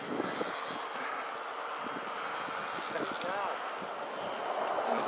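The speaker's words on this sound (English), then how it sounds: "Plane is actually moving backwards in the wind a little bit." A small foam RC Sbach model airplane flies outdoors in gusty wind, its electric motor a steady, fairly distant whine over rushing wind noise, with a little talk nearby.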